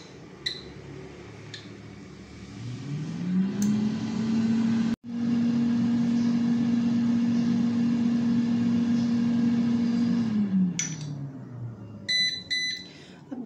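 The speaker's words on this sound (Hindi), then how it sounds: "और अब इसको हम 180 डिग्री पर पहले 10 मिनट के लिए फ्राई करेंगे।" An air fryer set to 180 degrees frying Chinese pakora: beeps, then a steady loud fan hum that ramps up, runs evenly and winds down, followed by a few clicks and a rapid series of electronic beeps.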